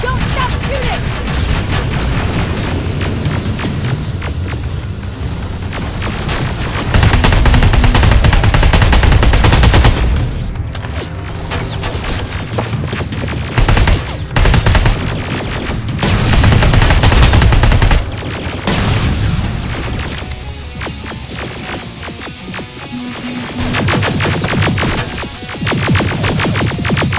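Rapid automatic gunfire and bursts of shooting in a Terminator Resistance battle against Skynet T-800 machines, loud and sustained with heavy barrages, under occasional shouted speech.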